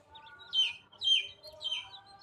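Native country chicken chicks chirp in three distinct bursts of high, thin peeps spaced about half a second apart, close and fairly clear over a quiet outdoor background.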